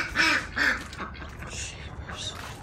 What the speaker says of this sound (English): Three quackers and a honker.